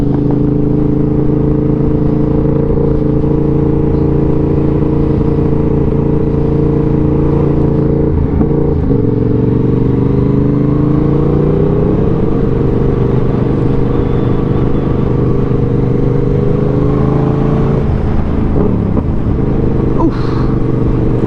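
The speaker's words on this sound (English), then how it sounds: "This exhaust has a baffle in it." A steady, droning motorcycle engine hums continuously at cruising pace in the Peak District, with its muffled, baffled exhaust note shifting slightly as speed changes.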